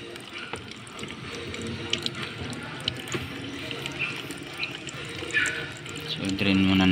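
Water mixed with a little gasoline drains from a motorcycle fuel tank that filled with water, a bike that won't start after carburetor cleaning; a steady splashing trickle runs throughout, with louder pours near the end.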